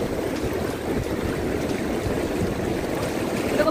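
A swollen river surges past, its fast water rushing and splashing in a steady, loud, broadband roar with no voices over it.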